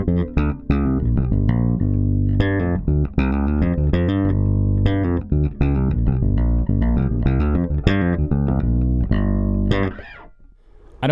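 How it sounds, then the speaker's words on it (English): Electric bass played fingerstyle using thumb and index finger, a steady run of loud, close plucked notes with a sustained low body, ending in a brief quieter pause. "one finger style way that I do where I use my thumb and my index finger"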